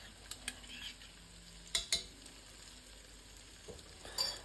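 Garlic drops into a pan of softened onions for a sausage casserole, a quiet sizzle with a few distinct clinks and taps of a utensil against the pan, close by and without speech.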